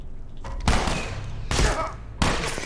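Gunfire in The Last of Us Remastered: three heavy, close bursts of shots, each arriving suddenly and ringing out before the next, with scattered quieter sounds in between.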